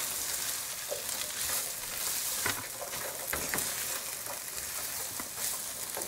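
Crumbled meat-pie filling sizzles in a pan while being stirred, with a constant frying hiss broken by soft, irregular scrapes and taps of the spoon, close and fairly loud.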